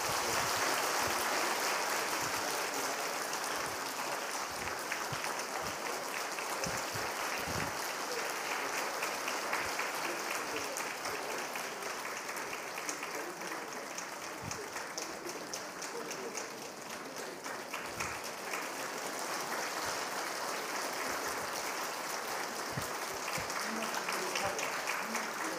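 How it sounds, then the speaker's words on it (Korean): A church congregation at a Sunday service applauds warmly for expanded small groups, steady dense clapping that fills the whole stretch at a fairly even level with a few louder thumps. "뜨거운 박수로 우리 축하하도록 하겠습니다."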